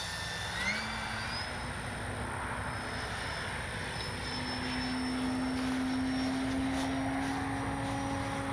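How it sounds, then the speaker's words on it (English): An FMS Fox 3M RC glider flies low overhead with a steady whirring drone and a thin rising tone from its propeller, held fairly constant and swelling slightly toward the end over open-air wind noise. "See if I can actually do a touch and go with this glider."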